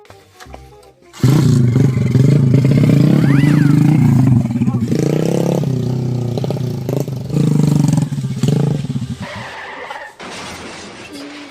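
A motorcycle engine starts up close by and roars and revs loudly for several seconds before cutting back, with voices partly heard under it.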